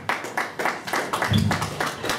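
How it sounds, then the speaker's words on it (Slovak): Audience applause at an outdoor event, a burst of scattered hand claps pulsing in uneven waves, moderately near, with a brief low voice murmur in the middle. "Potlesk, áno."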